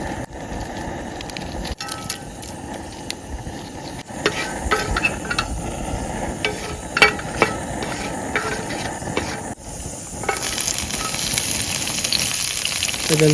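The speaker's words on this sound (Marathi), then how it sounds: "आपण इकडे तेल टाकून घेतलाय पहिलाच अख्खा गरम मसाला आहे ना सर्व थोडा थोडा मिक्स टाकू आपण" Whole garam masala fries in hot oil at a forest campsite at night, crackling and sizzling steadily with sharp stirring knocks, growing louder and denser toward the end.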